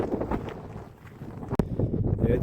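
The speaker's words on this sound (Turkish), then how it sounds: "Vallahi çok soğuk bir rüzgar var şu an" Cold wind gusting beside a lake, a steady low rumbling buffet that roars against the microphone throughout, with a brief sharp knock partway through.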